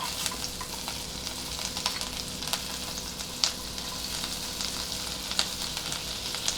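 Sautéing for burnt garlic mushroom rice: a steady sizzle of ingredients frying in a pan, with frequent scraping clicks of stirring throughout, close and moderately loud with no talking.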